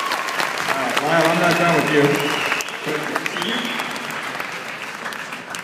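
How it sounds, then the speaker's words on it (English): Audience applause at a school question-and-answer gathering with students, a steady dense wash of clapping that fills the room while a voice talks over it. "Give him a round of applause."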